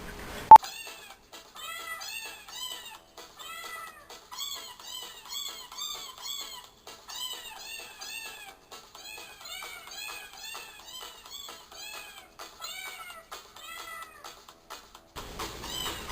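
A CD playing cats meowing along to music: a steady stream of pitched, melodic meows forming a tune, clear and continuous, with no talking.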